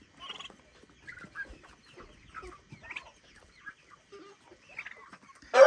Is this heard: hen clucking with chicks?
yes